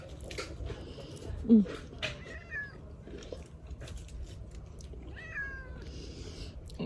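A cat meows faintly a few times in a garden. The calls are short and rising, with quiet ambient noise and some faint background voices.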